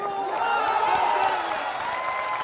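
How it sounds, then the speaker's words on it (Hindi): A large crowd at a Jan Suraaj political rally in Bihar gives a steady, dense roar of clapping and cheering that fills the whole moment, with a loudspeaker voice faintly mixed in. "अभी ताली नहीं बजाना है।"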